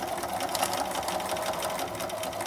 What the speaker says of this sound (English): I'm going to start from the side that's open, and we're ready to stitch.